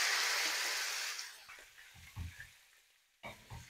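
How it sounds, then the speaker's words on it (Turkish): Meat hits hot melted fat in a pot over high heat, a loud sizzle at first that fades to softer crackling, broken by a few low clunks and knocks of stirring. "Şimdi güzelce etimizi tenceremize alıyoruz."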